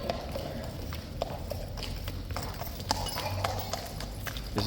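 Hooves clip-clop on hard pavement in a steady walking rhythm, moderately close, over a low rumble of street noise.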